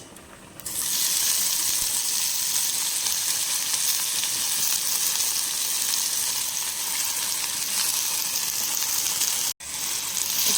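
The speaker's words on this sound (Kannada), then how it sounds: "ಅದು ಸ್ವಲ್ಪ ಚಟಪಟ ಹೇಳುವಾಗ ನಾವು ಕಟ್ ಮಾಡಿಟ್ಟಂತಹ ಬಸಳೆ ಸೊಪ್ಪನ್ನು ಹಾಕಬೇಕು" Chopped basale (Malabar spinach) leaves dropped into hot crackling oil, a sudden loud, dense sizzle that rises within the first second and hisses steadily up close, briefly cutting out near the end, with no talk.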